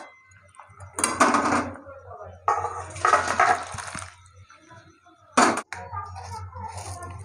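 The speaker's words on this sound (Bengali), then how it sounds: "আলু সেদ্ধ হয়ে গেছে পেঁপেও সেদ্ধ হয়ে গেছে এবার ঢেলে নেবো" Boiled potatoes and papaya are poured out of a pot in three rushing, clattering bursts of water and metal, separated by quieter gaps filled with a low steady hum.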